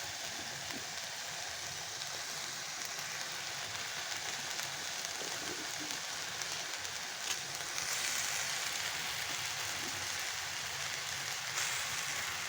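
Noodles are added to chicken and vegetables frying in a pan, giving a steady, faint sizzle with occasional soft scrapes and ticks throughout.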